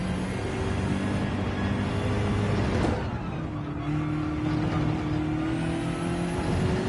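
A race car engine hums on light throttle in Gran Turismo 7, holding a steady low drone with a brief swell near the middle before settling back to an even tone, with no voices.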